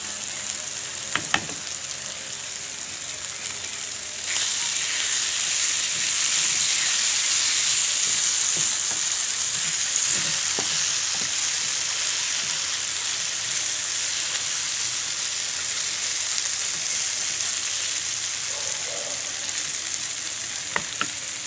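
Eggplant stuffing with mint and parsley fries and sizzles steadily in a pan, a continuous loud hiss with a few faint stirring clicks, no voices.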